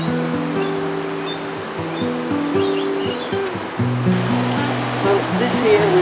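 Water of North Davidson Creek in Jirrbal Country, Queensland, a steady broadband rush under a voice, with faint bird chirps.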